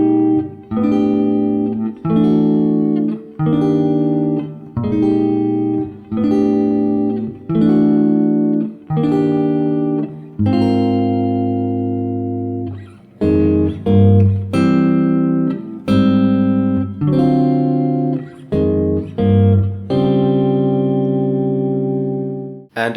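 A guitar plays the chorus chord progression of a song, strummed chords changing every second or so in a steady rhythm, bright and slightly effected, with no talking.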